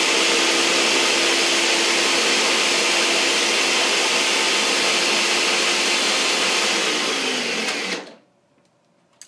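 A blender whirs loudly and steadily as it purees basil and kale for garlic scape pesto, a dense motor roar that holds for about eight seconds before cutting off abruptly into near silence.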